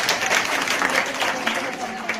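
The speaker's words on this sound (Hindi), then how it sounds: "देखिए सुनैना के लिए ताली लगाएंगे" A classroom of students claps for a classmate, Sunaina, a dense burst of applause running throughout, with a teacher's voice faintly mixed in.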